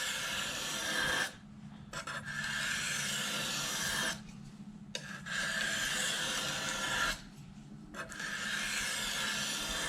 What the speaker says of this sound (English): just the tiny hair's width down there at the edge is what is actually being addressed with this fine grit stone